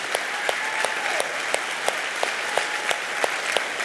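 Sustained applause from a church congregation during a Sunday celebration, many hands clapping in a thick, even roar, with individual louder claps popping out at intervals and no voices.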